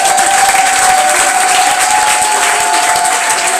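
A church congregation at a thanksgiving service applauding, a dense, loud, continuous wash of many hands clapping steadily throughout with a faint sustained tone beneath.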